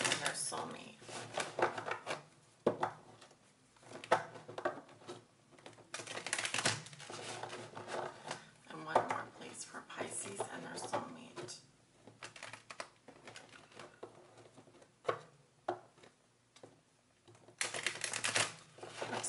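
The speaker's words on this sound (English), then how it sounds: "One more, because that wasn't a strong shuffle." Bursts of riffling, flapping tarot cards being shuffled for a reading, several rounds with quiet gaps between, close and fairly loud, with talking in between.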